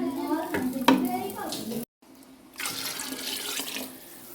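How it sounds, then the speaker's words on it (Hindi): Water poured from a tap or jug into a cooker holding whole masoor lentils for a lentils and rice dish, a splashing flow after a short pause, with brief clatter of the pot beforehand. "अब मैं इसके अंदर पानी डालूँगी"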